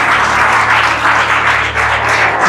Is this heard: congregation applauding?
yes